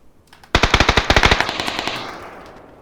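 Rapid automatic gunfire from a video game, a loud close burst of evenly spaced shots lasting about a second, then fading into a ringing echo tail, with no voices over it.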